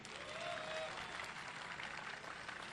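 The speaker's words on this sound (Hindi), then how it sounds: "1 2 3 करके आप लोग ज़रूर बताएं तालियों से कि आप लोग हमारे साथ हैं कि नहीं" Audience applause at an Urdu literary conference, a steady wash of clapping from a crowd that holds at an even level throughout.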